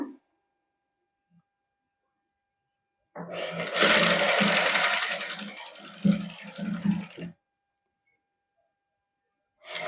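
A sewing machine stitches along a suit neckline in two bursts, a brief pause between them, rattling rapidly and close by, with silence before and after.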